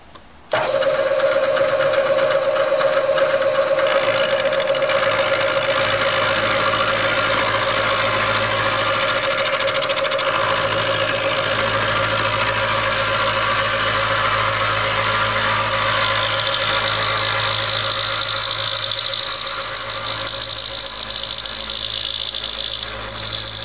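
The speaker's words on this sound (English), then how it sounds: "we now have to notch the cylinders so that the connecting rods will pass without any interference. I've installed a 3/4 inch end mill" A 3/4 inch end mill notching engine cylinders for connecting rod clearance on an 850 stroker: a steady machine hum with a sustained cutting whine that rises in pitch later, continuous and close.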